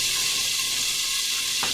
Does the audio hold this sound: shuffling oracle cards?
no